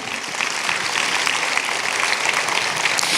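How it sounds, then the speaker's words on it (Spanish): Church congregation claps for the Lord in a dense, sustained wash of applause, loud and even from start to end. "¡Aplauso al Señor!"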